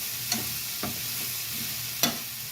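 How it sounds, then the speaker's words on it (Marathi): Radish bhaji being sautéed in oil in a pan, a soft continuous sizzle broken by three sharp scrapes of a spoon stirring, close and moderately quiet. "छान असा हा तेलावर परतून परतून परतून त्याचा असा छानपैकी गोळा करायचा."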